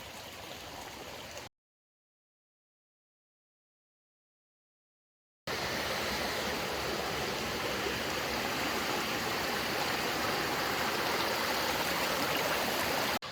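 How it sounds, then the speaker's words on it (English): A small mountain creek on Mount Rainier flows with a steady, broad rushing and gurgling of water, loud and close, briefly cut to silence before returning at full strength. "this little creek right here, I don't think it's the big river that we're going to be crossing"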